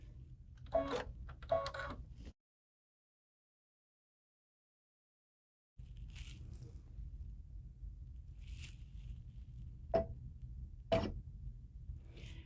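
Embroidery machine stitching a pineapple tote design, quiet rapid mechanical stitching with a few sharper clicks, broken by a silent gap before it resumes, no voices.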